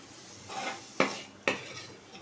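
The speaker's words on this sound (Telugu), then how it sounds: "కొత్తిమీర యాడ్ చేసిన తర్వాత కలుపుకోవాలి" A spoon scrapes and clanks against the pan while chicken liver fry is stirred after coriander goes in, two sharp metallic knocks among softer scraping, close and alone.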